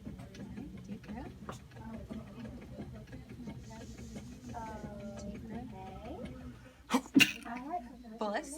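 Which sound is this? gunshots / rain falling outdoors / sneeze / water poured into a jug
sneeze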